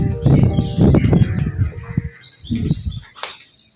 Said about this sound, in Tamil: இங்கே இப்போ கூட பாருங்கள் எவ்வளோ குயில் சத்தம் கேட்டுகிட்டே இருக்குது பாருங்கள்.